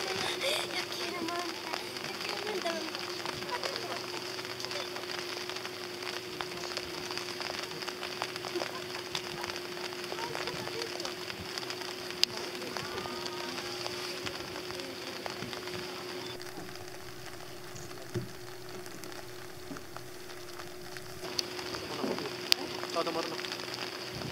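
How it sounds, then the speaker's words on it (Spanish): Steady rain patters on surfaces in a continuous hiss with scattered drips, while voices murmur faintly in the background. "A mí me gusta la lluvia acá."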